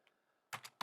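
Computer keyboard keys pressed for a command in a terminal, a brief burst of three crisp clicks close to the mic, with near silence before.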